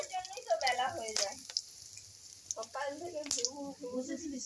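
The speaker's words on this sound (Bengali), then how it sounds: "আমি ওই তেলে ফোড়নে দিয়ে দেবো এলাচ, লবঙ্গ, দারচিনি আর তেজপাতা" Cardamom, cloves, cinnamon and bay leaves sizzle in hot oil, a steady faint hiss and crackle heard under a woman's continuous speech.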